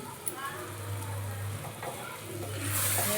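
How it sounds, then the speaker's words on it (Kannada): Mutton frying in a pan for sambar gives off a steady, quiet sizzle with a low continuous hum, and the sizzle grows a little louder near the end. "ಇಲ್ಲಿ ಫ್ರೈ ಆಗ್ತಿದ್ದೆ ಮಟನ್ನು"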